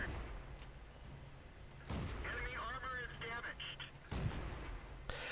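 Tank cannon fire in World of Tanks, Valentine II on the Steppes map, comes as a few sharp booming shots amid battle noise, with a voice talking over much of it.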